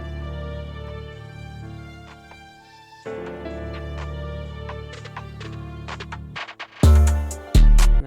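Trap beat drop built in FL Studio, ambient melodic loop over booming 808 bass and hi-hats, pausing briefly near three seconds, then ending with heavy distorted 808 hits that swell loud.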